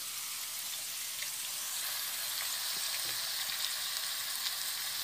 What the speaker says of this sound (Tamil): இந்த வெஜிடபிள்ஸ் போட்டு நம்ம 1-5 நிமிஷம் எண்ணெயிலேயே நம்ம வறுக்கணுங்க